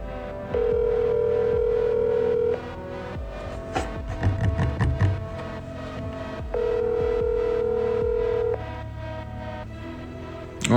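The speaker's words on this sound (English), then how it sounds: "I'm going to give you a call right now" A telephone call rings out with two long, steady electronic ring tones separated by a pause, loud and close, alongside faint background noise between the rings.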